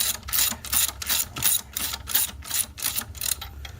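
A ratchet tightens a nut on a stud during a 4G63T timing belt job on a Mitsubishi Eclipse, making quick bursts of metallic clicking in an even back-and-forth rhythm, loud and close, with no voices.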